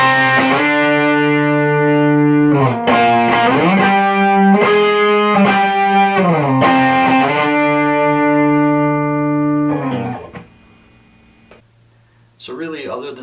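A distorted electric guitar plays the vocal melody of a song as sustained single notes sliding between pitches, loud and close. The notes stop near the end, followed by a brief quiet gap.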